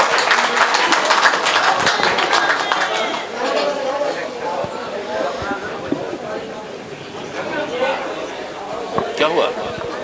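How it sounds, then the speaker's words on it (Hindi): Sustained loud applause and clapping from a mushaira audience greeting a poet, steady crowd noise with chatter mixed in throughout. "महक किरानवी साहिबा, जोरदार तालियों से उनका इस्तकबाल करें।"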